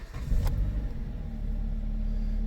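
Engine of a 2013 Dodge Avenger catching with a brief starter burst, then settling into a steady low idle rumble, heard close and moderately loud.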